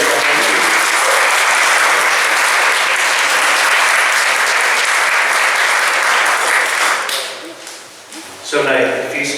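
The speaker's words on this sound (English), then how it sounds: "give Rebecca a round of applause for the harp music" Audience applause for a harp performance at a church centre's official opening: sustained, dense clapping from a sizable crowd filling the room for several seconds, then tapering off as a voice begins speaking.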